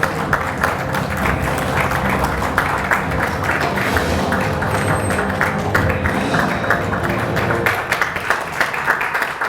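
Sustained audience applause at a Gangwon provincial digital platform progress briefing, dense steady clapping filling the room for the whole stretch, with faint background music and no clear speech.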